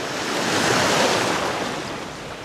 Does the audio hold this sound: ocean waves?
yes